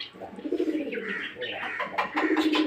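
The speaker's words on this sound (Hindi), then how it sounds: "और इसके अलावा ये है कबूतर, कबूतरों के घर" Pigeons coo close by in soft, throaty rolling calls, several overlapping through the short stretch.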